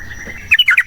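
A sooty-headed bulbul (trucukan) of the East Java type singing close by, a faint thin tone giving way to a quick run of five bright, bubbly chirped notes.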